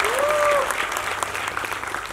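Loud, dense applause from an audience at a Marathi film trailer launch event, a continuous burst of clapping close by, with a voice briefly over it.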